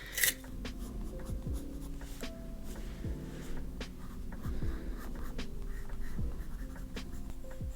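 A pencil scratches and strokes across paper in close, quiet, irregular scribbling, with short taps and rubs between strokes and no talking.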